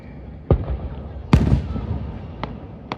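Fireworks burst overhead in loud, sharp booms at irregular intervals, one heavy blast followed by crackling and a fainter pop, with voices talking nearby.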